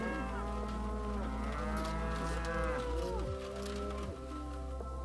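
Several cows moo loudly and repeatedly on a grass-based livestock farm, their long, overlapping calls close by and dominating a steady low farmyard background.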